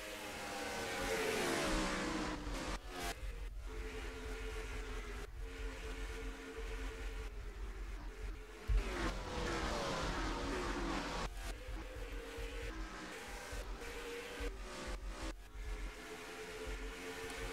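In a racing video game, the number 52 car laps Kansas Speedway in qualifying, heard from onboard: a loud, continuous engine drone that climbs through the gears, with brief drops and cuts where it shifts or lifts off the throttle.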